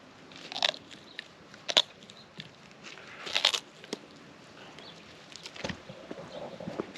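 A pet reptile eating, with several sharp crunching bites spaced irregularly and close up, faint chewing between them in a quiet room.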